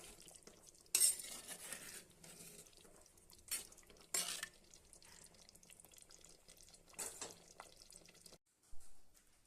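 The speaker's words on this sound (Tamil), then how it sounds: "அப்படியே லைட்டாக கலந்து விட்டுறலாம்" Fish head curry stirred lightly in a pot, faint scraping and clinking with a few louder utensil knocks against the metal between quiet stretches.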